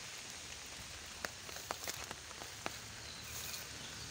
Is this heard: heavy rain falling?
yes